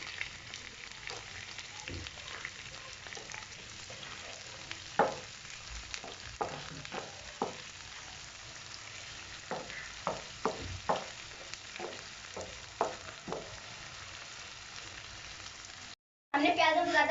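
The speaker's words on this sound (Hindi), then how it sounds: "अब हम इसमें प्याज डालेंगे, अब इन्हें हम फ्राई करेंगे।" Sliced onions fry in a pan, a low steady sizzle broken by repeated sharp scrapes and knocks of a spoon stirring, heard up close with no talking.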